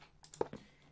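A few quick, quiet keystrokes on a computer keyboard, clicking faintly in a short burst with no talking.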